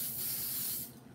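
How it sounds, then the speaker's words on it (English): Baker's Joy baking spray hisses steadily into a cake pan in a home kitchen for about a second, then cuts off, close and fairly loud with no talking over it. "you got to spray this like you trying to cast out a demon"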